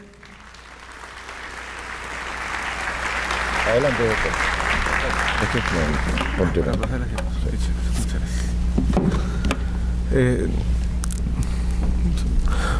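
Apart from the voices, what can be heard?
audience applause welcoming Dr. Sergio Domínguez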